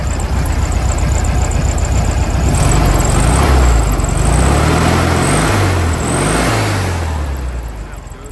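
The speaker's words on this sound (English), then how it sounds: "See, it runs pretty smooth. It's got that typical V-dub sound." A 1968 Volkswagen Beetle with a 4-speed and its air-cooled engine running close by, a loud, steady chattering idle with a couple of brief rises in revs.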